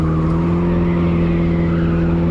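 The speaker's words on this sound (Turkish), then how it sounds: "Karda daha fazla kayıyor araban." Mercedes Sprinter van engine droning steadily in the City Car Driving video game while it slides on a snowy road, with a faint tire hiss underneath and no voice over it.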